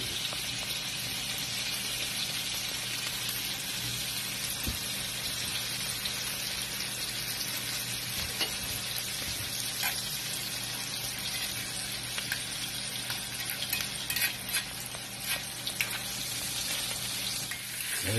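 A pork chop fries in a pan with rosemary and garlic, giving a steady, loud, dense sizzle that holds throughout with occasional small pops and crackles.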